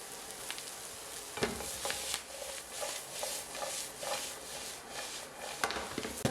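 Zucchini sizzles and is stirred in a pan for burrito filling, a soft, continuous frying crackle punctuated by irregular scrapes and taps of a utensil, fairly quiet and without talk.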